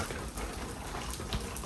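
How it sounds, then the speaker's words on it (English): Steady rain falls in Vietnam, a faint, dense hiss of drops with no pauses or voices. "The rain is doing well, and it's been needed."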